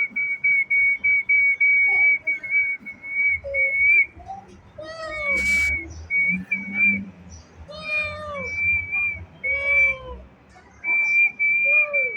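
A person whistles in repeated steady tones while a cat answers with several close, loud meows between the whistles.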